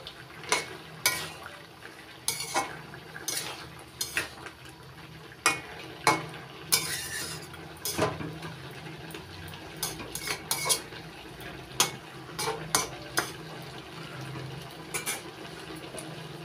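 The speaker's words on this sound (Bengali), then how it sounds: "এবার ডালের বড়িগুলো নাড়াচাড়া করে মিশিয়ে নিচ্ছি।" Fried lentil dumplings, dal bori, are stirred through vegetables and spinach in a pan, with repeated sharp scrapes and clinks of a utensil against metal at an irregular rhythm over a faint background hiss.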